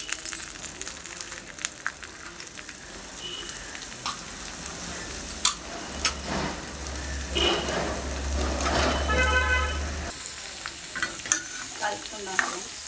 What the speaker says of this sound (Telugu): పోపులు వేగిపోయి క్యారెట్ వేసేద్దాం